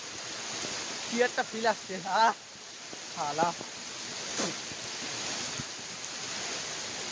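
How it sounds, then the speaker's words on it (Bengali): Heavy rain pours steadily on an open rooftop, a constant broadband wash of spatter throughout while someone talks briefly over it. "অনেকদিন পর ভাই বৃষ্টির পানিতে ভিজছি ভাই"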